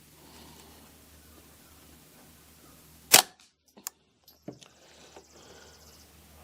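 A single sharp, fairly quiet crack from a subsonic standard-velocity 40-grain .22LR round fired through a custom Ruger 10/22 rifle outdoors, followed by a few faint clicks and small knocks.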